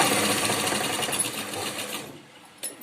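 A sewing machine stitches a blouse lining with a fast, close, even mechanical whir that runs steadily for about two seconds before stopping, followed by a brief click.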